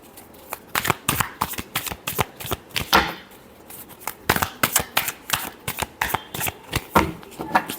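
Tarot cards are shuffled in quick, crisp bursts of riffling and flicking close to the listener, repeating steadily throughout.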